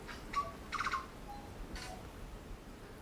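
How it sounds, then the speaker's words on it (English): A tui, a purple-blue perching bird, calls in the muddy Raetea forest with a few short, bright tonal notes and a quick warbled burst, faint and somewhat distant over a quiet background. "A tui is a passerine or perching bird."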